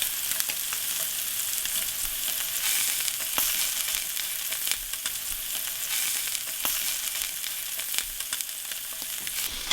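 Scallops sear in very hot oil in a cast iron pan, giving a steady, loud, close sizzle with crackling pops throughout and no talking.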